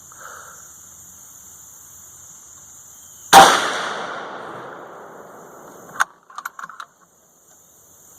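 A single sharp, loud rifle shot rings out from a .450 Bushmaster bolt-action rifle firing Hodgdon H110 loads, with a long decaying echo, followed by brief clicks of the bolt being worked.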